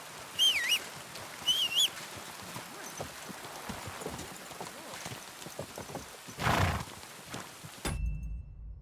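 In the video game Kingdom Come: Deliverance II, hooves clip-clop steadily at a walking pace, with two short high whinnies near the start, before the sound cuts off abruptly near the end.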